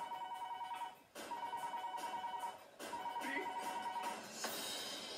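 A phone rings in repeated bursts of electronic tones, each lasting about a second and a half with short gaps, loud and close over a busy background.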